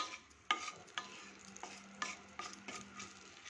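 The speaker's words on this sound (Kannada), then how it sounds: "ಇವಾಗ ಇದು ಸ್ವಲ್ಪ ಫ್ರೈ ಆಗಲಿ ತುಪ್ಪದಲ್ಲಿ." Something frying in ghee in a pan, with a soft steady sizzle under a series of sharp clinks and scrapes from stirring, with no talking.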